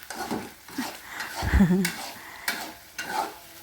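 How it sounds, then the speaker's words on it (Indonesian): Goat meat curry sizzles as it is fried and stirred in a pan, with scraping spatula strokes and a louder clatter midway over a steady frying hiss. "ini kita goreng-goreng sampai airnya menyusut ya"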